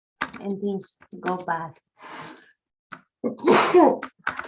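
A single loud sneeze bursts out near the end, following a few short phrases from someone speaking close up.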